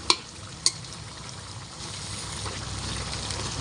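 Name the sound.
chicken meat being sautéed and stirred for kosha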